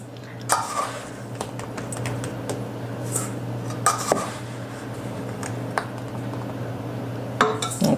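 Scraping and clinking of a measuring cup against a jar while scooping sugar, with several sharp knocks and taps over a steady low background hum; no talking.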